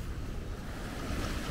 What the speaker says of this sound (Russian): На Рейне аж волны.